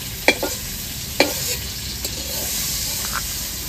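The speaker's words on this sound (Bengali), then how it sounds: "একটু হলুদ, একটু জল দিয়ে ভালো করে ফেটিয়ে নেব" A spoon beats turmeric and ground coriander with a little water in a bowl for a prawn malai curry, giving a few sharp clinks and short scrapes against a quiet kitchen background.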